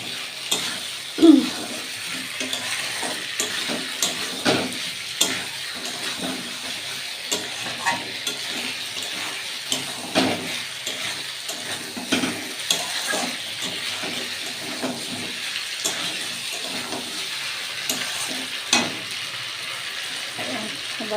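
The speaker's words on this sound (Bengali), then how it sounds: "আর একটুখানি আলুগুলো দিয়ে একটু কষিয়ে কষিয়ে নেবো আলুগুলোর সাথে" Meat and potatoes fry in a wok, stirred continuously. Repeated close scraping and clattering strokes ride over a constant oily sizzle.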